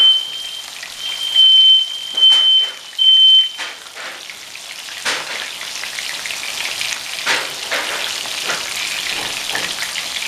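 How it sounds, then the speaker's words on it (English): A smoke detector sounds in a kitchen while beef browns in hot grease, three or four shrill beeps over a steady loud sizzle that carries on alone afterward. "It's just the smoke detector is so sensitive."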